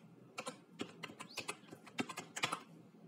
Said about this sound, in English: I'm going to type jump Coursera.